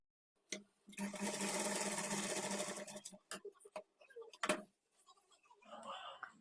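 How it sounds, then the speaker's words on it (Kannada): A sewing machine stitches a blouse hemming strip at a quarter-inch margin, running in a close, rapid whirring burst of about two and a half seconds, then a few short stop-start runs and brief clicks. "ಕಾಲು ಇಂಚ್ ಮಾರ್ಜಿನ್ಗೆ ಸ್ಟಿಚ್ ಮಾಡ್ಕೊಳ್ಬೇಕು"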